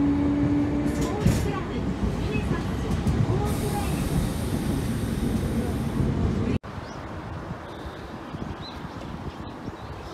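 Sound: riding a tram car in Nagasaki

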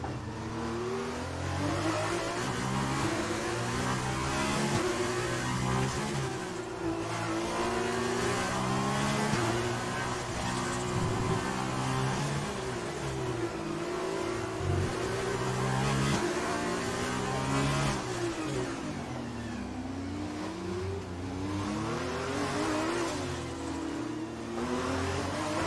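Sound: F1 race car engine from the video game F1 2020 at Monaco

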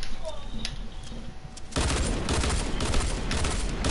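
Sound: gunfire from a shooter video game

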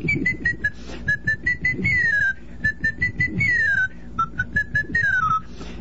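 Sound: ordinary whistling

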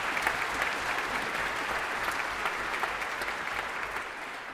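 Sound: audience applause

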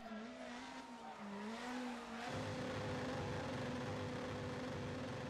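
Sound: rally car engine with gear popping out, DiRT Rally video game

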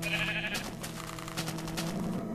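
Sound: sheep bleating in the video game Minecraft

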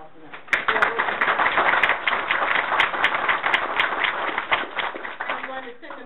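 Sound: audience applause at school board meeting

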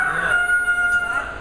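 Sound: person imitating a rooster crowing

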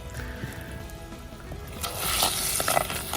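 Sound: fish curry boiling in a pot on a wood-fired stove

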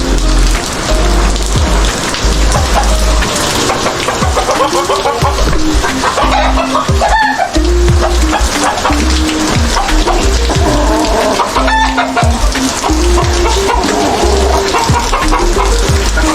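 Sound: chickens clucking

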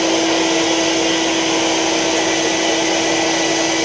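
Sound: Electrolux vacuum cleaner running in an airflow test

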